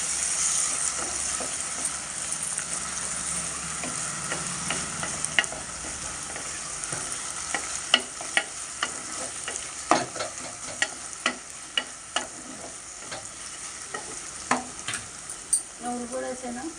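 Eggplant frying with sesame seed powder in a pan, a steady close sizzle broken by repeated sharp scrapes and clicks of stirring against the pan.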